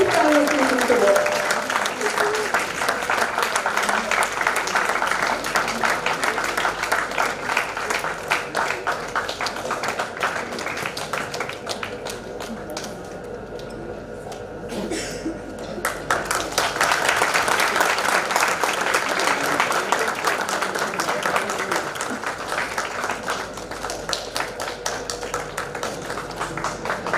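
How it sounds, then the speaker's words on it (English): Applause from a conference audience honoring a Lifetime Achievement Award, steady and sustained throughout with dense clapping, briefly thinning midway before swelling again; a voice speaks over it at the start. "Let's continue with the applause for the Lifetime Achievement Award."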